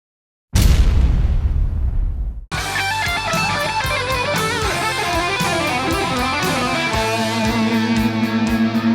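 Distorted electric guitar lick, built on a pedal-note idea: a loud burst and crash, a brief gap, then a dense, steady run of fast picked notes with no talking.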